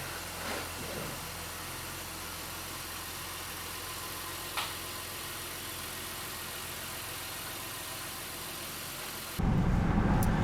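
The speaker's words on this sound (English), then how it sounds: "we are test driving the vehicle" A 2016 Honda Pilot SUV engine, with a bank 2 air-fuel ratio imbalance fault, hums steadily at low revs with road and cabin noise on a test drive, then grows louder and rougher toward the end as it accelerates.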